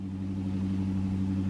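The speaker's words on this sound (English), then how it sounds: "my neighbor's car is so loud" A car engine idles with a steady low rumble, loud and close, rising slightly at the very end.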